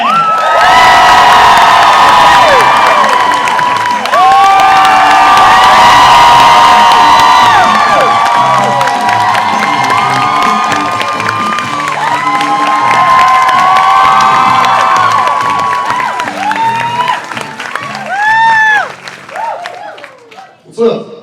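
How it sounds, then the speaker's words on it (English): A large convention audience at a Supernatural fan panel in Austin, Texas, erupts in loud sustained cheering, screaming and applause that fades toward the end, with a voice speaking over the crowd near the close. "Let's give them a nice round of applause."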